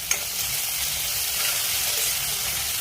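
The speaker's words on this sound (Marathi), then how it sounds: "छान असा मेथी टाकल्यानंतर आवाज होतो आणि फिरवून घ्यायची मेथी आपल्या चमच्याने" Fenugreek seeds hit hot oil in a pan of cooked onions with a sharp opening crackle, then settle into a steady, close, continuous sizzle with faint stirring throughout.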